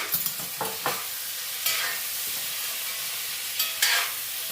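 Onions sautéing in a pan while being stirred, a steady close sizzle broken by several brief scraping stirs, with no voices.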